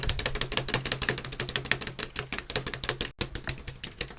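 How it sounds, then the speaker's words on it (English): Several people type on keyboards during an online conference, a dense, continuous patter of rapid clicks at moderate level with no talking. "several people are typing."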